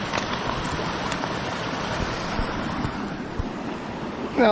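A forest stream in Pachaug State Forest, off a dirt road, flows past an old water wheel foundation near the former Peg Mill site. The water makes a steady broadband rush, close and continuous, with no voices.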